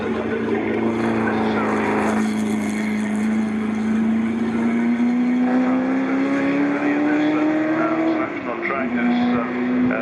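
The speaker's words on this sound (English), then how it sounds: "as Michael Birch goes past, takes a place" Ford GT40 race cars at Silverstone in the Amon Cup, engines roaring loudly and steadily with a rising, sustained pitch as they pass close by, with a race commentator talking over the engine noise.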